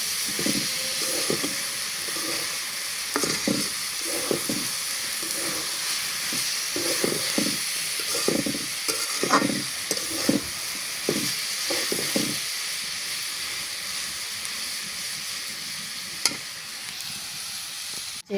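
Vegetables fry on a home stove while rice cooks beside them, a steady close sizzle and hiss broken by repeated soft stirring scrapes.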